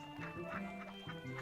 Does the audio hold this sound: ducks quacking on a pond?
yes